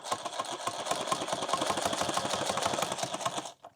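A sewing machine stitches a leather Leatherman multitool pouch in a fast, steady mechanical rhythm of close needle strokes. It stops abruptly at the end, with no talking.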